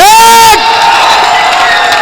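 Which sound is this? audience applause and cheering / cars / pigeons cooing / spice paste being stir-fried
audience applause and cheering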